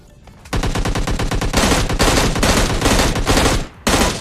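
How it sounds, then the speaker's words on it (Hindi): Rapid automatic gunfire from an S12K shotgun in the video game PUBG, in long bursts, loud and close, with a brief pause before a final burst. "गाड़ी और सज्जन पुरुष सब पे गोलियां चलाई जाती हैं।"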